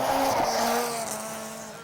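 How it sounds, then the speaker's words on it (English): A modified production race car crashing at Maryborough Speedway in Queensland, with loud engine drone and a tire squeal that fades as the car slides away, no talk over it. "Big crash. Stephen Zull's machine is a wreck."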